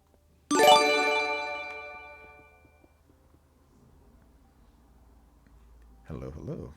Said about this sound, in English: hopefully that notification wasn't too loud. That spooked me.